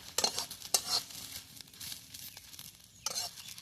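Green chillies roast and sizzle in a pan beside charred aubergine, with close crackling bursts and a soft continuous fry, punctuated by a few scraping stirs.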